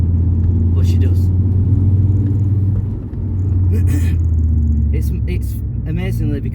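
Volkswagen Beetle fitted with a 2.3 V5 engine driving along, a steady loud low engine rumble throughout with a brief dip midway, while people talk over it inside the car.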